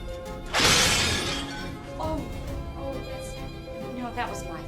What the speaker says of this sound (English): Staring at the plate that vanished and then suddenly shattered, Matt couldn't help but feel a wave of panic